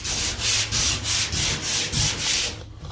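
Coarse 80-grit sandpaper scuffs a pickup truck bed in a garage before bed lining, in about eight rhythmic back-and-forth rasping strokes, loud and close, with no voices.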